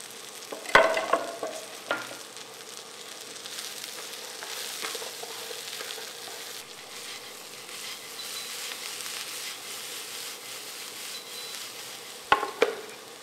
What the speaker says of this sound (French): je rajoute mes champignons pour les faire tomber également avec ce mélange